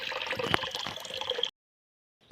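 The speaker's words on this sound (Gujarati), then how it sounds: "આ છે ટોપરા જેવું પાણી કાઢે" Water from a submersible motor pump gushes and splashes loudly and close for about a second and a half, cuts off abruptly into silence, then resumes faintly at the very end.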